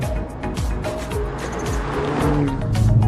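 A Hyundai i30 N hot hatch drives over a bumpy road, its engine droning and tyres rumbling with repeated thumps and jolts from the rough surface, growing slightly louder toward the end with no talk.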